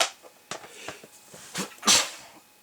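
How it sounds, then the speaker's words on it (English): A short sneeze bursts out near the end, after a few soft scattered clicks and rustles in a quiet room. "Oh, sneeze"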